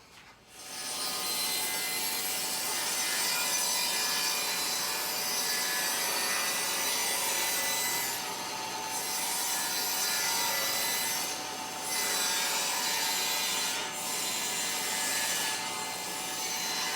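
Saw ripping through a length of wood to cut 3/4 inch strips for a garden obelisk, a steady loud rasping cut running almost without pause, with only brief dips as the blade moves along the board.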